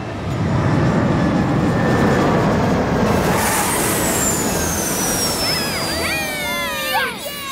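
A cartoon aircraft comes in to land on a runway with a loud, steady roaring engine rush that holds throughout. Rising and falling whistling tones sweep in near the end.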